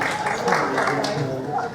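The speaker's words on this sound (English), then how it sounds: "Give William a big clap, everybody." A live audience applauds a volunteer named William at a stage show, a steady wash of clapping throughout.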